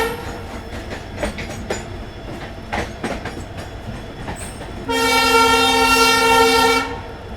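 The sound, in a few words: Rajasthan Sampark Kranti Express train running past Gurgaon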